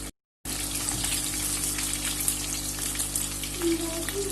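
Fish fries in hot oil at a roadside dhaba fish fry point in Attock, a dense, steady sizzling hiss close up after a brief silent gap at the start, with a low hum underneath.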